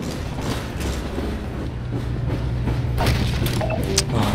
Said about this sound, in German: Und da kommt wieder der Zug.